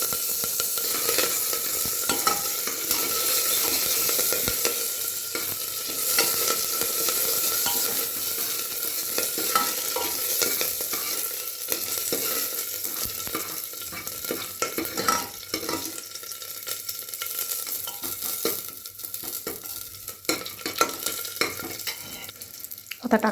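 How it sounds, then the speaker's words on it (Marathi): Garlic and curry leaves sizzle steadily in hot oil after mustard seeds have popped, a dense continuous frying hiss with occasional stirring scrapes and crackles throughout, close and fairly loud, with no voices. "मोहरी तडतडल्यावर आपण टाकणार लसूण,"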